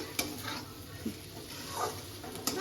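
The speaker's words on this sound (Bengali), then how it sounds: "একটু আমি নাড়াচাড়া করে নিচ্ছি" Lote fish curry being stirred in a pan gives a soft continuous sizzle with a few light clinks and scrapes of a utensil against the metal, close and fairly quiet.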